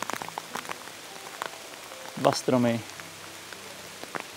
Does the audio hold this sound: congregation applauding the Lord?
no